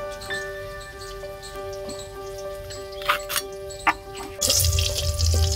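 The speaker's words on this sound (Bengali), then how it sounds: "তো দেখো, উচ্ছেটা ভাজা হয়ে গেছে।" Bitter gourd slices frying in hot oil for shukto give a steady, soft sizzle with a low kitchen hum, broken by a few sharp clinks and a louder, fuller crackle toward the end.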